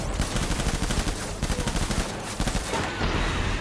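Assault rifle fire in Death Stranding, set in a World War 2 battle: rapid, loud automatic bursts rattle in a steady stream close by, with a short break in the middle and no voices.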